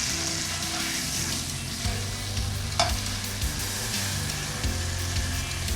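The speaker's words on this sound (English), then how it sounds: "Love the sound of that sizzle." Steady sizzling of meat frying in a hot cast iron pan, a continuous crackling hiss with light clinks of utensils moving the food around.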